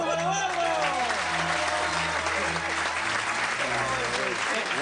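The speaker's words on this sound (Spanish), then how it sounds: "¡Un aplauso para Eduardo!" Sustained studio audience applause on a Spanish-language comedy panel show, steady and dense throughout, with talk and laughter-like voices running under the clapping.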